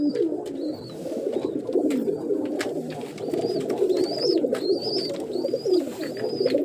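Domestic pigeons cooing nearby, a steady low throaty murmur of overlapping coos under repeated higher chirps, with no talking.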